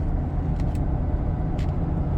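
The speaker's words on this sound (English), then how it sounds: "So far, the truck's riding nice with these big tires. You can definitely hear the tires and all." Big tires on a lifted Ford F250 Tremor diesel with Carli Suspension humming on the road, a steady loud low rumble with faint brief hiss bursts, heard from inside the cab without talk.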